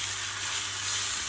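Chopped chicken breast sizzles in a pan with peppers and onion, giving a steady, close, bright frying hiss with no talking.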